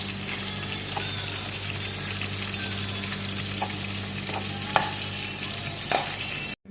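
Tomato thokku frying in a pan with garam masala and asafoetida, stirred steadily with a constant sizzle and a few soft utensil knocks against the pan, close and alone with no talk.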